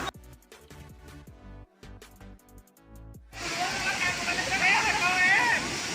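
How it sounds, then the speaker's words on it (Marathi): Music and scattered tones play at first. Then a loud, steady roar of the small Shivarba waterfall at Kolhapur sweeps in and rushes on, close to the microphone, until the end. "तर हा छोटा धबधबा आहे."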